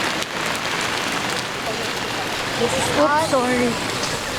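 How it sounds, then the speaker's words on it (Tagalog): Heavy rain pours down in a dense, constant roar, loud and close throughout, while a person briefly speaks over it near the end. "It's raining so hard."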